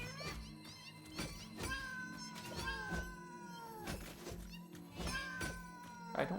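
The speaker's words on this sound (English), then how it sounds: "I don't like the sad cat noises" Sad cat meowing sounds from the video game Satisfactory, a series of plaintive, descending meows repeating every second or so over a steady low game hum, fairly close and clear.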